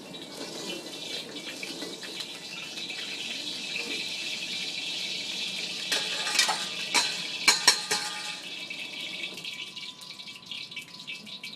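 Hot oil sizzles and splatters in a wok while food is stirred, a steady broadband hiss with a few sharp crackling pops in the middle, close and fairly loud, with no talking.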